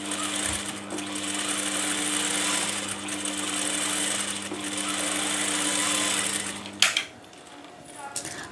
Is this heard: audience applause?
no